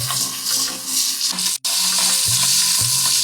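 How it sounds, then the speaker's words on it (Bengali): Steady hot-oil sizzling of overripe cucumber pieces frying in a pan with green chillies and salt, continuous and close, with a short break and occasional stirring scrapes. "এবার টুকরো শশা কাঁচা লঙ্কা আর অল্প নুন দিয়ে ভাজবো"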